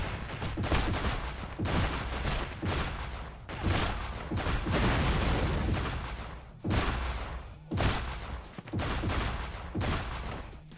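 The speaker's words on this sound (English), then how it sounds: "And they're shooting at us." Gunfire from enemies in a Fallout game comes in dense, loud bursts of repeated shots and booms that stop briefly between volleys.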